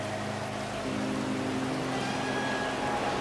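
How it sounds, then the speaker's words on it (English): Heavy rain coming down in a desert in a survival video game, a steady, fairly faint hiss of falling water with a few faint tonal game sounds under it. "Oh, we got some serious rain out here."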